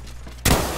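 A sudden loud burst of gunfire in an online shooter video game, a sharp blast hitting after a short quiet lead-in and ringing out for the rest of the moment.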